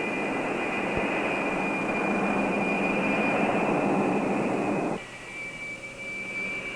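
Jet airliner engines of a 1956 United Jet Mainliner before takeoff give off a loud steady roar with a high whine, then drop abruptly to a quieter hum near the end.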